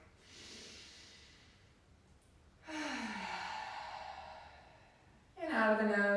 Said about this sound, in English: So if we breathe out of the mouth,